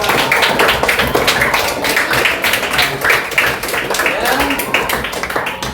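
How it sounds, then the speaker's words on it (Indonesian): Children in a religious lesson clap their hands in a quick, rhythmic burst of repeated claps, close and loud, with voices mixed among the claps. "Tepuk tangan untuk anak soleh dan solehah."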